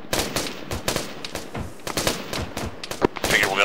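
Rapid gunfire from the military video game Arma 3, with repeated bursts and single sharp shots cracking close and loud in a steady barrage, mixed with a voice talking over the shooting.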